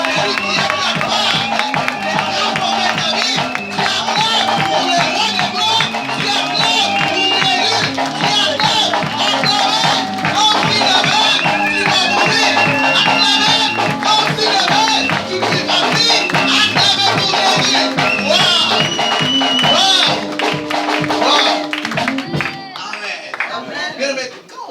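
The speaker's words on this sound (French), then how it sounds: "Est-ce que tu peux te mettre debout et acclamer ton Dieu?" A church congregation cheering and clapping for Jesus, a loud, dense, continuous wash of crowd noise and clapping over music, with voices throughout, fading slightly at the end.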